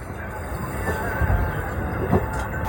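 The Hool Express train from Howrah towards Siuri rolls along steadily, heard from inside with a deep rumbling drone, faint wheel squeal and a couple of soft clunks, close and continuous with a voice faintly present.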